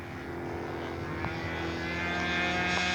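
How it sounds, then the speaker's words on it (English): A radio-controlled fun scale Lancer model airplane drones past on a touch-and-go at a scale aircraft show, its steady propeller whine holding a constant pitch and swelling slightly louder as it nears. "bringing his Lancer in for a touch and go"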